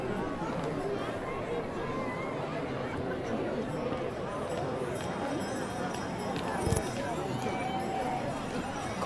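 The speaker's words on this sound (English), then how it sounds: "Look at those horses." Horses clip-clop along the street in the Victorian Sleighbell Parade in Manistee, Michigan, their hooves faint and steady beneath a chattering outdoor crowd and nearby voices.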